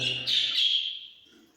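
High, thin chirping from a young female bird, a couple of calls in the first second that fade away, with soft low handling noise beneath.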